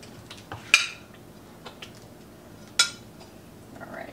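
Sausages being put back into a pot of tomato gravy, two sharp metallic clinks of utensil against the pot with faint soft clatters and rustling between them, close and fairly quiet.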